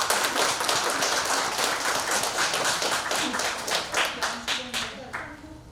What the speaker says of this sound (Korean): 우리 나오셔서 아름다운 음악으로 연주하실 때 큰 박수로 모시도록 하겠습니다